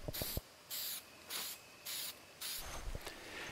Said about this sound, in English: I'm just painting a few of these spacers for the screws that'll be at the outside